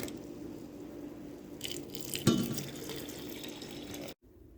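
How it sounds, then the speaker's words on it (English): Brine trickles and splashes as it is poured over shredded cabbage in sauerkraut jars, a soft steady liquid pour close by, briefly louder midway, then stopping abruptly near the end. "So, I'm going to pour in a little brine on each one of them,"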